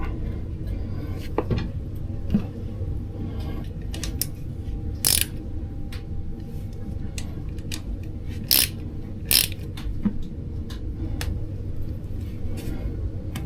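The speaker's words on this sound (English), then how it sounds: "And now let's put the screws back on and give it a test." Stainless steel bolts being screwed back into a brass housing on a boat engine, heard as a run of small metallic ratcheting clicks and scrapes with a few sharper clacks, close by over a steady low hum.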